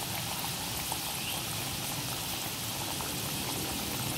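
Flour-coated potato pieces frying in hot oil over medium-high heat, a steady dense sizzle and bubbling crackle that holds constant and close throughout, with no voices.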